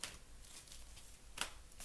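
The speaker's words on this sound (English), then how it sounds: "I need to give them a good shuffle" Tarot cards riffle and slide against each other in a soft, close shuffle, with a brief sharper snap near the end.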